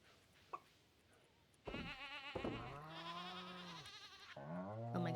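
Farm animals in Stardew Valley, including goats and sheep, bleat loudly in several drawn-out overlapping calls, starting after a brief click and continuing close up to the end.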